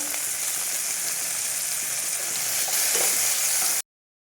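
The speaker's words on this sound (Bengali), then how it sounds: "পেঁয়াজ টমেটোটা ভাজা হয়ে আসছে" A steady, loud sizzle of onion and tomato frying in a pan, with light stirring scrapes near the end before it cuts off abruptly.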